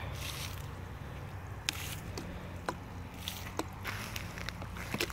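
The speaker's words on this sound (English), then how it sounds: "it's kind of a slurry, and you just kind of spread it around" Wet wine cap (king stropharia) mushroom spawn slurry being spread around outdoors in a yard, soft close squishing and wet smearing with scattered small ticks and drips over a faint background, with no talk.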